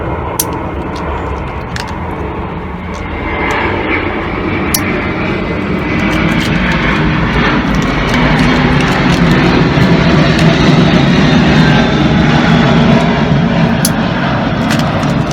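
A fixed-wing airplane passes overhead near a busy airport, its broad engine roar swelling steadily and staying loud and close throughout, with no talk.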